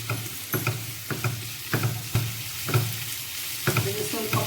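Onion and green chilli frying in hot oil in a pan, a constant sizzle broken by regular scraping strokes of a spoon stirring, close and fairly loud.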